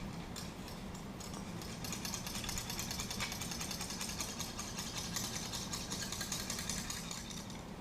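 A Lansky system stone rasps in quick, faint, rhythmic strokes along the blade of a BK2 knife, a steady soft scraping pattern with no voices.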